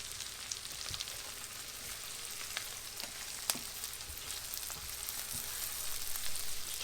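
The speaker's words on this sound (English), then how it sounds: "Stir these around, let them get soft." Mushrooms fry in a pan with a steady, fairly quiet sizzle, broken by scattered scraping taps as they are stirred around.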